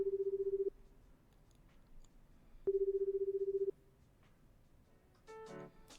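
A telephone gives two long, steady single-pitch tones separated by a pause, each starting and ending with a click, followed by a brief burst of faint mixed tones, all clear against a quiet background.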